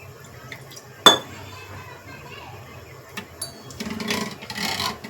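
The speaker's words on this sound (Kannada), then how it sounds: "ಈಗ ಇದಕ್ಕೊಂದು ಸ್ವಲ್ಪ ನೀರು ಕೂಡ ಹಾಕ್ಕೊಡ್ರಿ" Water is poured into curd to make buttermilk in a home kitchen. A sharp clink of a vessel comes first, then a short splashing pour near the end, with quiet talk in the background.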